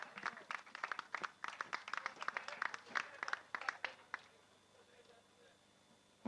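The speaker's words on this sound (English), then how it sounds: "give a huge round of applause to OKN Junior" Spectators at a junior kart racing event clap in a brief, fairly distant burst of scattered applause that stops after a few seconds, leaving quiet ambience.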